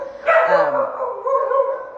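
Puppies taken in by a rescue give a short, close bark followed by yelping and whining, with a second yip near the end of the two seconds.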